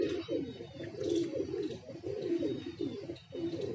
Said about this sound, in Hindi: बहुत उड़ान वाले कबूतर